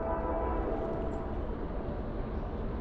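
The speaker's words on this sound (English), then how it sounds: "We got some train action." A Norfolk Southern freight train passes at about 50 mph at sunrise, a loud, steady rumble of rolling cars filling the whole stretch.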